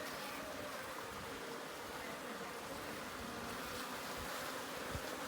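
Honeybees kept in a managed wooden hive box drone in a steady, faint, continuous buzz under soft background hiss, with no voices.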